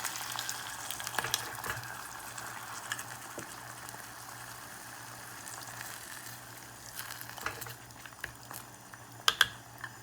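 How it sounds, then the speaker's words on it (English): Soft tofu stew with broth sizzles and crackles quietly in a hot pan, with a few sharper pops and scrapes of stirring. "you hear that sizzling?"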